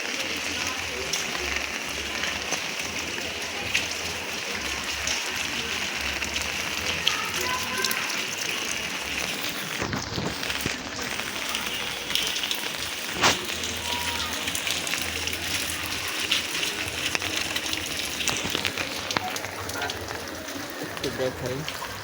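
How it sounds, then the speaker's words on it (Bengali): Heavy rain pours steadily outside a home gate, a dense continuous hiss with someone speaking over it for a few words. "অনেক বৃষ্টি হচ্ছে এখানে।"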